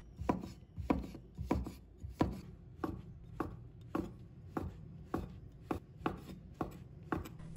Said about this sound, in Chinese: 把它切成菱形段， 再切成菱形片，